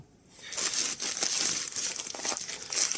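A sealed mica coffee bag crinkles loudly up close, a continuous rustling and crackling as it is handled for a few seconds.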